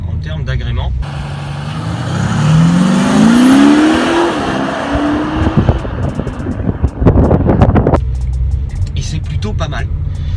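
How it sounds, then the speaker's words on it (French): Audi SQ5 with a 313 hp V6 bi-TDI diesel and exhaust resonators, revving hard as the engine note climbs and swells, then settles back to a steady drone. "Audi l'a équipé de résonateurs dans l'échappement, ce qui fait que on a une sonorité en mode dynamique"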